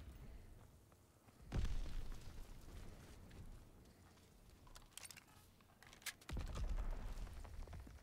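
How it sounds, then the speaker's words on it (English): Call of Duty: WW2 multiplayer grenade blasts: two heavy, booming detonations several seconds apart, each a sudden low thump with a rumbling tail, amid quieter gunfire crackle and light keyboard clatter. "That's a grenade"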